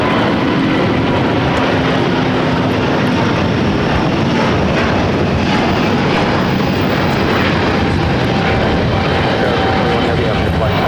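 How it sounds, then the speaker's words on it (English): An ITA Airways Airbus A350-900 jet takes off from LAX bound for Rome, its engines a steady, broad roar that holds loud and continuous throughout with no voices over it. "this is ITA Airways 621 taking off to Rome, Italy on the A350-900."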